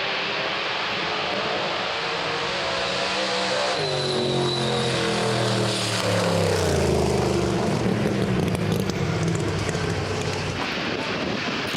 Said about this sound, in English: Check out Wayne Hussey's 6-second Chevy Nova doorslammer.